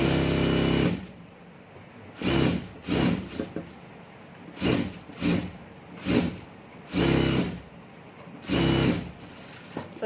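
A sewing machine stitches the lining of a gathered frock in several short, loud bursts of rapid needle whirring, separated by brief quiet pauses.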